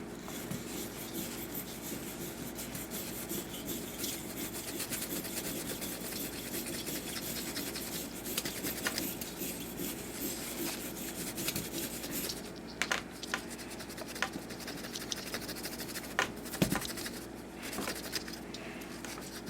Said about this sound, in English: This little wire brush here is not very abrasive. That seems to do a pretty good job.